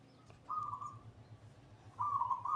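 A perkutut, or zebra dove, gives two soft, tremulous cooing phrases a little over a second apart, heard fairly close against a quiet background with a faint low hum.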